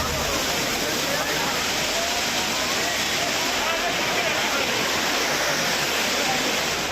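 Heavy water of the Courtallam waterfall in Tamil Nadu pours down in a steady, loud broadband roar, constant throughout with no clear breaks.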